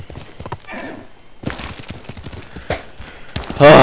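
Horse galloping in Ghost of Tsushima, a quick, steady run of hoof beats close by, with a brief loud burst at the end.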